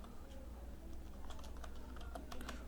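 Computer keyboard keys tapping as a folder name is typed on a Windows PC, a quick run of close clicks that grows busier toward the end over a low hum, with no voice.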